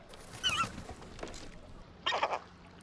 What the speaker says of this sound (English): What happens in this one? Seagulls.